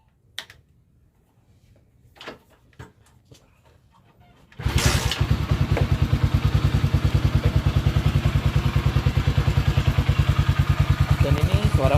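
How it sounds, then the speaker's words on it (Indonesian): Honda Win 100 motorcycle with a cold engine and a replacement carburetor starts up after a few quiet clicks, then idles loud and close in a fast, even putter that continues to the end. "Dan ini suara mesinnya"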